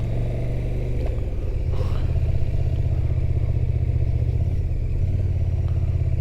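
KTM motorcycle on the rough South Loch Ness Trail, engine chugging loudly and continuously up close with clattering and rumble from the uneven surface, no voices.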